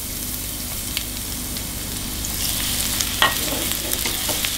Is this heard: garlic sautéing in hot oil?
yes